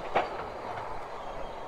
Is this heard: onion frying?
no